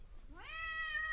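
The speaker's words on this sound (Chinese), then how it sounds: "最讨厌的小猫咪。" A single rising meow from a cat at a pet-friendly hotel, clear and fairly close over quiet room tone, with no talking.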